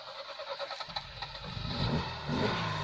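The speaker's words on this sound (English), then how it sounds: "we wonder whether the Cherry Europe will start." A Nissan Cherry Europe, an Italian-built car with an Alfa Romeo engine, cranks briefly and catches, its engine settling into a low running rumble, fairly faint and close.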